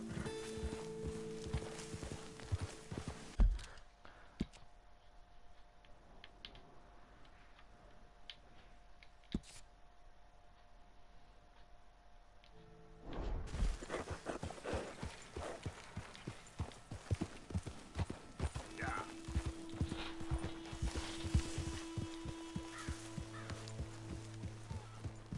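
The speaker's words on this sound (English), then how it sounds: "Careful with that horse, Arthur." A horse's hooves clip-clop in Red Dead Redemption 2, rhythmic steps near and clear, pausing mid-clip for a quieter stretch before resuming with other game sounds.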